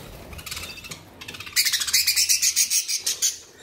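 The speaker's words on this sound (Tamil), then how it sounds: "இதெல்லாம் லவ் பேர்ட்ஸ்." Love birds, including African love birds, in a home aviary: high, rapid chirps and squawks, growing louder and more insistent in the second half, close by with no talking.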